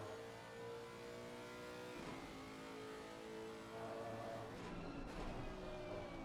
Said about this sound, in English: Just hear the roaring of that engine